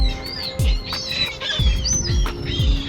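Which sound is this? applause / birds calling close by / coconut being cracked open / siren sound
birds calling close by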